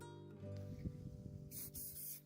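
Two short hissing bursts from a spray can, the first longer than the second, following some soft handling noises.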